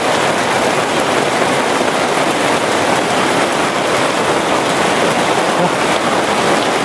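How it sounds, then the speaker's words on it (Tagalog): Heavy rain pours down in a dense, steady roar, loud and constant throughout with no pauses. "lumakas yung ulan"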